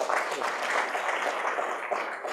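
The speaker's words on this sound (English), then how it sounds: "And one round of applause for all the panelists." Scattered applause from a forum audience for the panelists at a product leaders event, a steady wash of many hands clapping at moderate loudness throughout.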